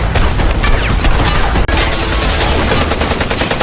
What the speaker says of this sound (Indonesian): terjadi baku tembak antara detektif Kumar dan kelompok Kali yang kebetulan akan kabur dari sana